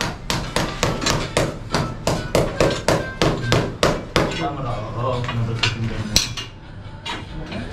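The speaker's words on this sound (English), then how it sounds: "they're cutting into the steel deck there" Metal striking steel on a house construction site, cutting into a steel deck: a fast run of sharp, loud clanging hits at steady rhythm for about four seconds, then a duller, irregular mix of scraping and scattered knocks.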